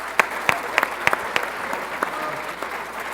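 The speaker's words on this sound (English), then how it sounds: "Can we please give a round of applause to our volunteers," Scattered applause for volunteers from a small group at a school community arts event, a few distinct sharp claps standing out over a light, steady patter with faint background murmur.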